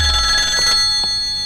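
A telephone rings with an incoming call during a Kannada film scene, a loud steady electronic ring that holds for about a second and a half with no talking over it.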